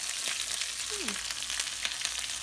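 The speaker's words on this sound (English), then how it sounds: "this stuff pops, so you kind of got to be careful with the oil and the chorizo" Chorizo fries in hot oil in a pan, giving a steady, close sizzle with faint crackling pops and no talking.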